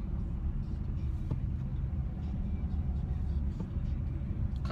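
A car rolls along slowly, giving a steady low engine and road rumble heard from inside the cabin, with faint small knocks and no clear speech.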